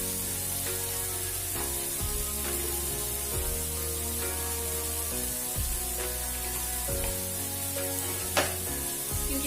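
Vegetables frying with turmeric and garam masala in a pan, a steady close sizzle with occasional soft scrapes of stirring and one sharp clack near the end.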